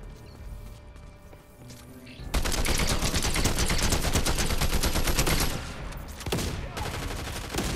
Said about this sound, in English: Gotta spray him with your AUG.